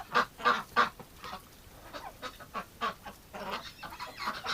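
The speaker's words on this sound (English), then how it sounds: "We've got some kind of goose breakout going on over here." A flock of geese honks in a series of loud, close, nasal calls, three strong honks at the start and then more scattered calls overlapping at varying distances.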